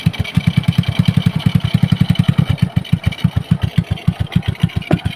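A Raptor motorcycle engine warms up at idle, a steady, fast, even thumping pulse heard close and loud with no voices over it.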